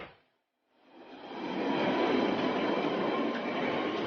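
London Underground train at Leytonstone station, heard up close as a steady, loud rumble of wheels and carriages that swells in after a brief lull and holds strong to the end, with no talk.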